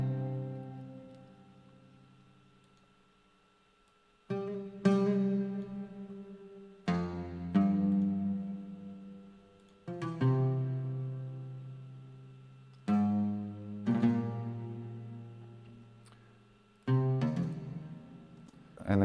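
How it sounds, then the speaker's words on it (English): Oud melody played from the Middle East Oriental Sounds plugin: plucked notes with rich harmonics, phrases restarting every few seconds with sharp attacks and slow decays, clear and close with no voices. "Another instrument is Oud."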